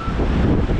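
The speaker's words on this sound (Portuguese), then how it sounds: "Essa pontezinha, o vento batendo no metal aqui." Strong wind buffets a small metal footbridge in the Serra da Estrela near Covilhã, Portugal, producing a loud, continuous roaring rush with heavy low rumble, close to the microphone.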